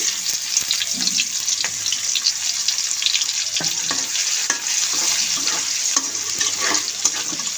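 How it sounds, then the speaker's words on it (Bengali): Chopped onion frying in hot oil with cumin seeds in a pan, a steady broadband sizzle with scattered crackles and soft stirring clicks, close and continuous throughout. "পেঁয়াজটা আমি বাদামি কালার করে ভেজে নেব"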